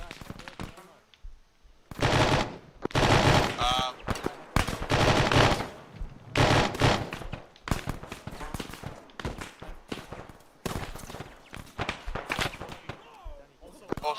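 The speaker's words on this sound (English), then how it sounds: "We're currently taking lots of fire from the south and west." Heavy automatic gunfire in the military video game Arma 3 comes in dense, loud bursts and sustained volleys, with scattered single shots between them and radio-style voices talking over the shooting.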